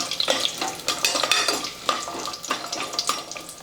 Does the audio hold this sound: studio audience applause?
no